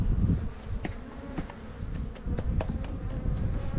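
Honey bees buzz steadily at a beehive at Hatta Honey Bee Centre near Dubai, a dense close hum with individual bees droning past now and then, no voices.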